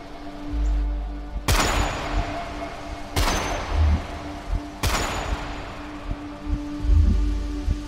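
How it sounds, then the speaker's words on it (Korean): Three loud, sharp gunshots ring out at even intervals at dawn near a Philippine sugarcane field, each followed by a brief echoing decay over a low background hum. "새벽에 울린 세 발의 총소리와 함께 이 이야기는 시작됩니다."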